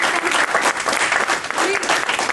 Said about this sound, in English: Can we give a big round of applause for being here?